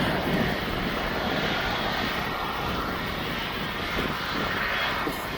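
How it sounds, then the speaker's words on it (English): Boeing 777 airliner departing East Midlands Airport, a loud continuous jet engine roar holding steady and close the whole time, with some wind buffeting on the microphone. "So this 777 you can see in front of me"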